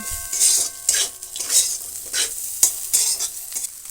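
Spices stirred into a cauliflower filling frying in a pan for samosas, loud rhythmic stirring strokes about every half second over a crackling sizzle, close and without talk.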